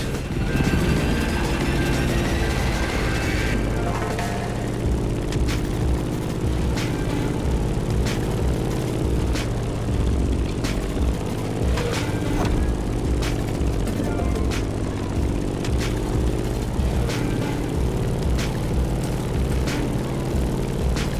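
A Grumman F8F Bearcat propeller fighter drones steadily in flight in the racing game The Crew Motorfest, a loud, continuous engine hum with a faint rising whine early on and no pauses.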